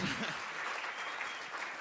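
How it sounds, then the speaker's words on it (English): Audience applause at an indie game awards event, a steady dense clapping that holds throughout with faint voices mixed in. "yes, round of applause."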